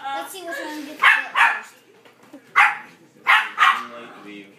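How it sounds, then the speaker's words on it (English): A dog barks in several sharp bursts, a pair early and a cluster of three later, close and fairly loud, with talking in between. "leave my dog barking on this"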